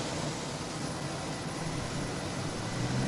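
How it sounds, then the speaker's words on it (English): Jet airliner departing at reduced takeoff power, its engines fitted with hush kits, giving a steady, loud, broadband roar that holds level throughout with no talking. "make less noise by using a reduced engine power for takeoff"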